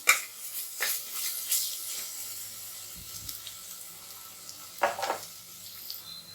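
Tomatoes sauté in a pan for chicken biryani with a soft, steady sizzle and occasional scraping stirs and clinks of the spoon, fairly quiet with no voices.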